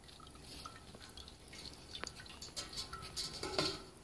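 Faint, irregular drips of liquid fall from a steeped grain bag lifted out of the pot while brewing a honey blonde ale, scattered droplets gathering into a brief trickle near the end.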